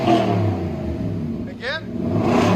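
A 2021 Nissan Titan SV with a 5.6L V8 and true dual exhaust through Cherry Bomb Extreme mufflers rumbles and revs loudly up close, with a brief rising swell in the middle and people talking over it.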